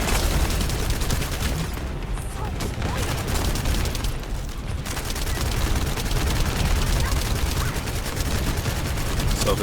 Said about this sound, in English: We're gonna wait for a couple of these shots to go off.